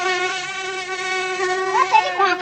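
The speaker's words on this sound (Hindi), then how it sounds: "मच्छर घोड़े के पास आके" A mosquito buzzes near a horse, a thin, high whining drone held close and steady, rising and wavering toward the end, alone without any talk.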